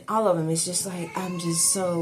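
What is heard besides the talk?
cat meowing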